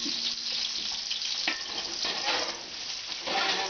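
Food sizzling and frying in a big saucepan as it browns, a steady close hiss with faint stirring scrapes throughout and no talk.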